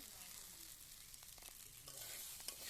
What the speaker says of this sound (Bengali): এখন আর ভালো করে নেড়ে চেড়ে দিচ্ছে আম্মু।